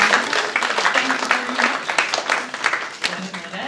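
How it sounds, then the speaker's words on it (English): A small audience claps for a guest speaker at a wellness session on low vision support, steady scattered applause of moderate loudness with some speech-like sounds mixed in. "let's give a round of applause to our guest today."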